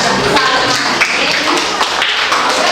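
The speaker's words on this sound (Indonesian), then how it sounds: "Berikan tepuk tangan ke kelompoknya." A classroom of students applauds a presenting group during a civics lesson, with dense, steady clapping filling the whole span and close, lively hand claps mixed with some voices.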